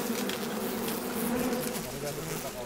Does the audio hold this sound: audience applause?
no